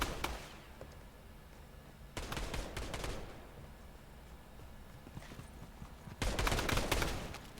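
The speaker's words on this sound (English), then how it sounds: "Oh, they're firing." Gunfire in Fortnite comes in scattered bursts of sharp cracks over a rustling game background, the loudest volley arriving near the end.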